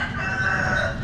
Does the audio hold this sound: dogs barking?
no